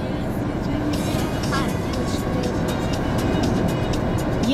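A car drives on the road from Baku toward Turkey, heading for the Red Bridge border crossing. A steady rumble of road and engine noise fills the cabin, with faint voices underneath.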